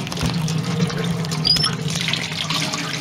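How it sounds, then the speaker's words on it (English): Rusty water running from a loose tap on a 12-metre bore pump line, a steady splashing gush with a brief squeak partway through. "a loose tap but running water"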